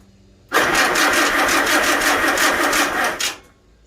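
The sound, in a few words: Farmall Super A tractor engine revving with more throttle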